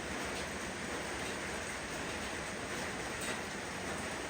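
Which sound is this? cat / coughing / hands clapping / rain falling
rain falling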